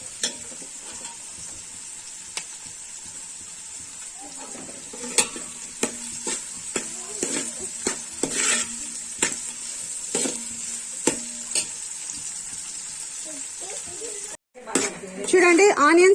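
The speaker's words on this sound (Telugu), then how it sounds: "ఇది కొంచెం డీప్ ఫ్రై అవ్వాలంటే టైం పడుతుంది." Three onions deep frying in oil for mutton biryani: a steady bright sizzle with repeated clinks and scrapes of a ladle stirring in the pan, close and continuous.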